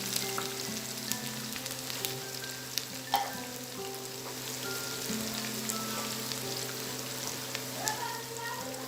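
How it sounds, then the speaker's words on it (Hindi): Onions frying in hot oil for beef nihari, a continuous dense sizzle with faint stirring clicks and scattered pops, close and steady, without talk. "अब मैं इसमें आराम से प्याज फ्राई करने के लिए डालूंगी।"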